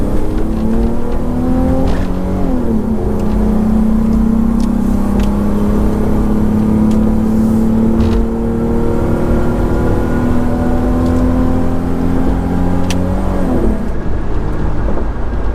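A Nissan Pathfinder R50 truck engine revs loud and close, its deep drone rising and falling through several pulls with no talking over it.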